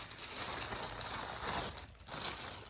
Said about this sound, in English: taking off the heat bag, and then peeling the plastic back.